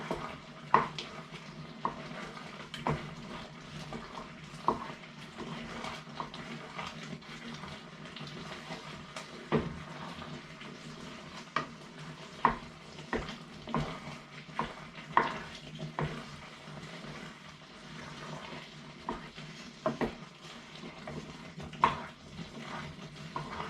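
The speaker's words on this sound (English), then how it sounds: "And then give that another stir" Sweet potato curry is stirred in a pot with soft, repeated scraping and clinking, plus occasional sharper knocks, quiet and close over a low simmering background.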